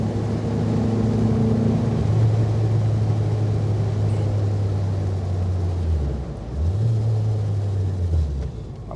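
A 1960s-style Renault Dauphine 1093 drones loudly and steadily at high revs, its engine note holding, then dipping briefly near the end before climbing again. The rumbling cabin sound is heard alone.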